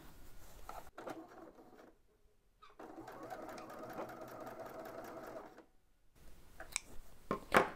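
A sewing machine stitches to tack ribbon down on an Easter sewing project. Its close, steady whirring hum runs in a few bursts separated by short pauses, with faint handling clicks at the end.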